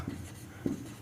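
Pen writing on paper during a maths lesson makes two short, soft scratching strokes against quiet room tone, close and faint, with no talking.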